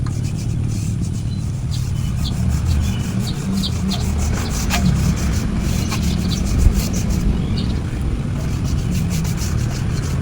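A steady, close rubbing and scraping as rust and dirt are scrubbed off a carpentry saw blade, continuous strokes with occasional sharper scratches over a low background rumble.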